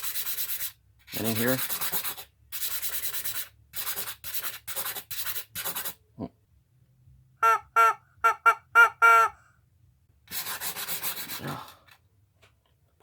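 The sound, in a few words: rock being rubbed on sandpaper grit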